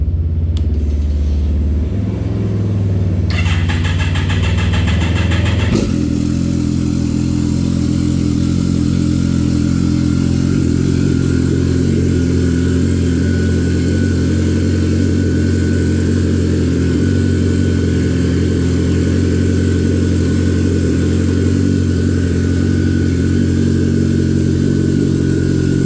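A stripped-down Harley motorcycle engine idles steadily and loudly up close, a deep continuous rumble that settles in after a brief startup, with no voices.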